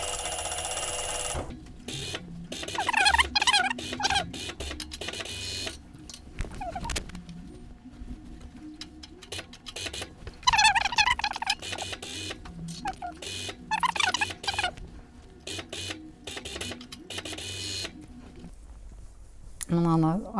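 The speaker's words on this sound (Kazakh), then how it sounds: "Енді оверлокқа саламыз." Overlock sewing machine stitching seams on a hoodie, running in close, loud rapid bursts that start and stop repeatedly, with quiet gaps between runs.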